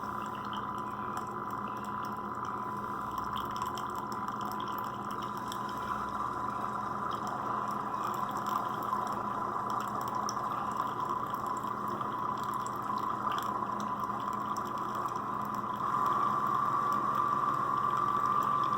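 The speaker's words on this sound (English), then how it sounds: "Now this coffee pot does make a lot of noise." A Mainstay drip coffee maker brewing, with a steady hiss and gurgling bubbling that runs continuously and grows a little louder near the end, close by with no talking.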